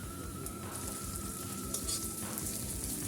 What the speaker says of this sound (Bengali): আদাটাও ভাজা হয়ে গেছে।